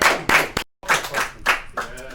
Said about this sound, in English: So round of applause to construction.